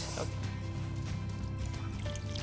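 Water is poured into a pot over Armenian Lenten tolma and a plate, a steady close trickle and fill with soft splashing, while people talk.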